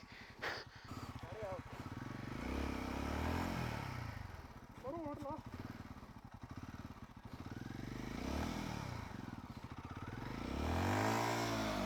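A motorcycle engine runs and revs while the bike is stuck in deep snow on Shinku La Pass, with a steady throbbing idle rising in swells, loud and close, as people talk and strain over it.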